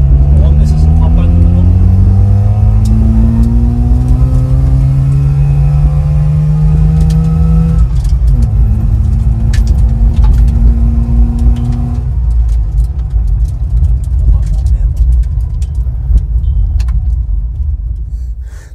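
A Trabant rally car engine working hard on the road, a loud close droning rumble that rises in pitch through the gears, with rattles and jangling over it while someone talks.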